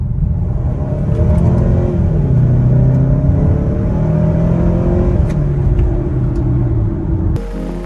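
A 2018 Mazda CX-9 accelerates on a toll road, a loud low engine rumble and road roar from inside the cabin that rises and holds steadily, then drops off abruptly at the end, with no talking.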